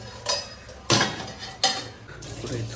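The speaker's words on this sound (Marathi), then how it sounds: "चला चला फटाफट भांडी धुवून घेऊया" Dishes and cutlery clatter in three sharp bursts against a kitchen sink while dishes are washed, with a faint trickle of water between the clinks and no talking.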